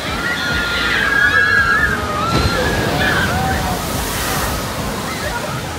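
A theme park water ride at La Ronde sends up a big splash that rushes and sloshes steadily for several seconds, loud and close, with faint voices mixed in.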